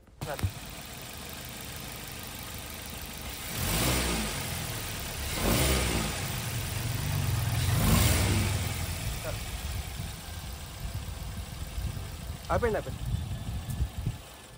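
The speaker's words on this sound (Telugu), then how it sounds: "ఒకసారి ఇంజిన్ స్టార్ట్ చేసి చూద్దామండి." A petrol car engine cranks into life and keeps running, its broad rumble swelling and easing over several seconds while someone talks nearby.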